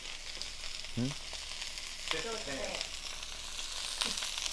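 Key West pink shrimp frying in a hot wok: a steady close hiss of sizzling oil with a few faint squeaky scrapes and pops over the top.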